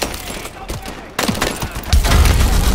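Heavy gunfire in Call of Duty: Advanced Warfare comes as a dense, loud barrage of overlapping shots and impacts, growing stronger partway through and continuing without a break.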